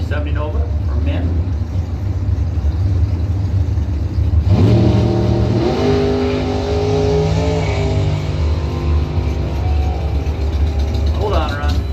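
A 1970 Chevrolet Nova drag races down the strip during street trophy semifinals: a loud engine roars steadily, then surges with rising gear-change sweeps midway before fading off, with a track announcer talking over it.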